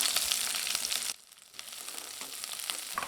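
Loud, steady sizzling of onions and curry leaves frying in hot oil, dropping briefly quieter before the crackle builds back up, with no talking.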